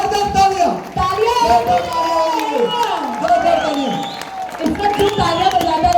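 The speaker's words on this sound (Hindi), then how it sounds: "वो तालियां बजा डालिए, जबरदस्त तालियां खड़े होकर" Standing audience applauds and cheers at a Diamond recognition ceremony of a leadership development program, steady crowd clapping with whoops and overlapping voices and music-like tones throughout.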